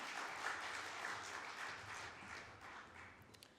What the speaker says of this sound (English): can I please get a massive round of applause for Somindu?